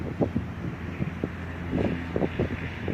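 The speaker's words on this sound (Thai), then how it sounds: "วันนี้ลมแรงมาก" A strong, gusty wind blows at an RC flying field, rumbling as steady buffeting noise against the microphone, with irregular low thumps and flaps throughout and no speech.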